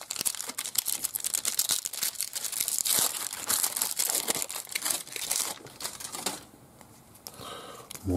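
1995 Spawn Widevision trading card packs are torn open and handled at close range, with dense crinkling foil wrappers and snappy tearing that ease off into quieter card shuffling near the end.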